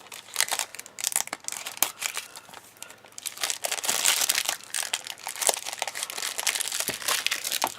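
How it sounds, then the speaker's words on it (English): Plastic shrink wrap is torn and crinkled off a Super Mario Odyssey game box for the Switch, with close, loud crackling, crunching and tearing that runs without a break and no talk. "I just love the sound when you break this plastic."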